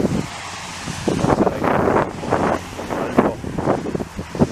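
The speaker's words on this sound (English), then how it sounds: "It's definitely windier up here, being up at a higher elevation there." Wind gusts buffet the microphone while walking along a raised street in Montreal's Outremont district, with loud, rumbling blasts that rise and fall in uneven surges.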